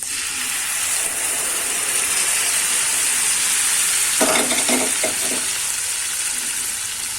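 Boiled bottle gourd being stirred into melted butter in a pan for a Gujarati-style curry, a steady sizzle throughout with a short burst of scraping spoon strokes partway through, close and alone.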